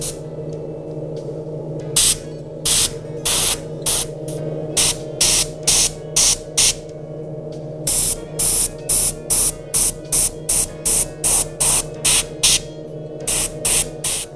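Repeated short bursts of spray from a nozzle painting a steelhead fish replica, loud and close, in a steady stop-start rhythm over a constant low hum from a compressor.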